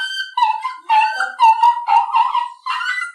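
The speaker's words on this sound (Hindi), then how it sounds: "ये कुत्ते की बुलाई सुनकर आप चौंक क्यों पड़े?" A dog howls and whimpers in a stage play, a drawn-out, loud series of wavering cries with brief pauses between them and no talking over it.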